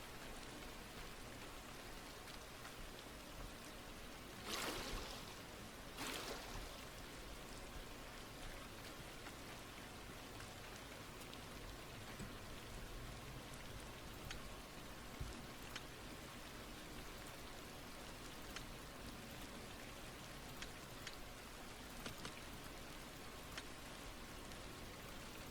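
Constant rain falls in a survival game, a soft, even hiss with scattered drops and a couple of brief brighter splashes, with no talk over it.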